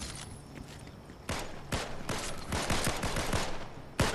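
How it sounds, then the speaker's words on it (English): Gunfire in a Fortnite duos match: a few spaced sharp gunshots and short bursts, fairly close and punchy, with no talk. "Are you shooting?"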